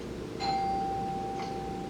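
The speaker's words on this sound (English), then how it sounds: "Who was at my doorbell?" A doorbell chimes once indoors, a clear electronic tone ringing out and sustaining before a softer second note, with no talking over it.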